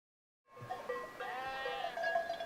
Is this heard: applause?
no